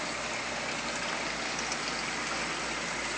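Water drops steadily through a sump in a circulating tank loop, giving a constant broad splashing hiss like rain on a surface, loud and unchanging throughout.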